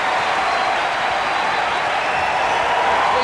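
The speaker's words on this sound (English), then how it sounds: "the crowd giving the team a big ovation" A basketball crowd at a 1985 UCLA vs. North Carolina college game gives the team a sustained ovation. The applause is a loud, dense wash of clapping that holds steady throughout.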